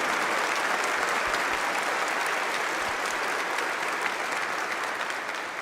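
A congregation at Divine Mercy Sunday Mass applauds during the homily, a dense, steady roll of many hands clapping in a large church that holds for several seconds and eases slightly toward the end.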